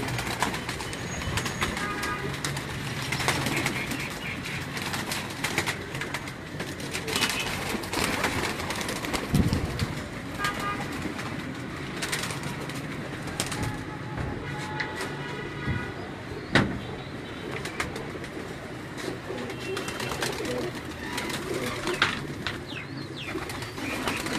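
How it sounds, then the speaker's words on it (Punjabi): Neel dumbe pigeons of Ustad Pappu Qasai of Faisalabad, a well-known Neel dummi breed, cooing steadily through the whole stretch amid a busy, noisy background with a faint rumble underneath. "ਉਸਤਾਦ ਪੱਪੂ ਕਸਾਈ ਫੈਸਲਾਬਾਦ ਜੀ, ਉਹਨਾਂ ਦੇ ਨੀਲ ਦੁੰਬੇ ਕਬੂਤਰ ਨੇ ਜੀ"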